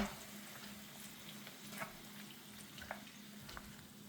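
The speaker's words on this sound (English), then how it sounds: "I'm going to just add more broth." Vegetables sizzle steadily in a pan as broth goes in for a South Indian curry, a soft continuous frying hiss with a few faint clinks and stirring sounds.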